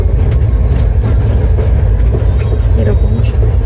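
The Rajdhani Express from Kolkata to Delhi runs along with a loud, steady low rumble and faint rattling that fills the whole stretch without pause.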